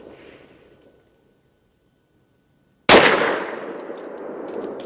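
An EAA Witness 10mm pistol fires at a steel plate about 30 yards away, one sudden loud crack with a ringing metallic clang that lingers and decays, after a quiet pause.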